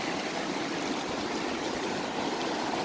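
Fast-running stream water rushing hard in a steady, close broadband wash with a gurgling texture, continuous for a few seconds with no voices.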